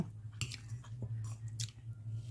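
Close, quiet chewing of soft boiled sesbania flowers eaten with pork, a few moist bites and crunches spaced unevenly over a low steady background hum.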